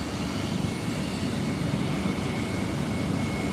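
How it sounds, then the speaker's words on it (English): A helicopter lifts off near NYU hospital beside the East River in New York City, giving a steady, loud broadband roar throughout with no pauses. "And so we got the choppers taking off again."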